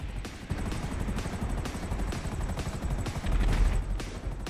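Helicopter rotor thumping mixed with rapid bursts of gunfire and explosions in the video game GTA Online, a dense, loud, continuous battle din with sharp repeated shot transients throughout.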